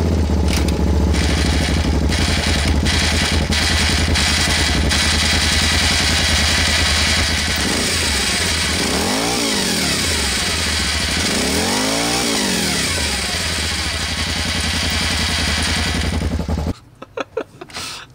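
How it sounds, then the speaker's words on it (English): A mini rock crawler engine fires up loud and close, then revs repeatedly in rising and falling sweeps over a rough, buzzing run before cutting off abruptly near the end. "Let me fire it up, and I'll leave it neutral, and I'll see if it engages when I rev the engine."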